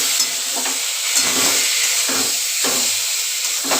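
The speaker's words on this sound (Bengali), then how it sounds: "এবার চিংড়ি মাছগুলো দিয়ে দেবো," Prawns fry in a pan with onion and garlic for a prawn curry with potato and pointed gourd, a loud continuous sizzle broken by repeated stirring scrapes at an uneven rhythm.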